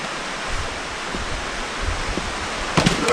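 A chilly stream of water flowing in the woods, a steady rushing wash with a few brief knocks near the end.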